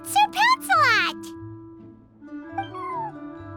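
Sir Pouncelot, a feisty cat in Genshin Impact, meows in a few bright, rising cries close up, then a softer drawn-out meow after a short pause, over a steady low game hum.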